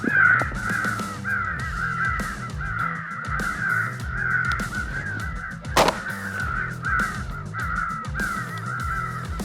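Several crows caw repeatedly outdoors during a crow hunt on public land, harsh calls overlapping in an irregular rhythm at moderate distance. One sharp, louder burst cuts through midway.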